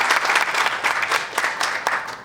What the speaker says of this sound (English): a nice round of applause for Linda.